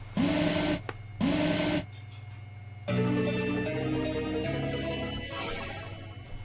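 Pokémon X game audio as an elevator is entered: two bright synthetic chime bursts, then a sustained mechanical hum with soft clanks as the lift moves.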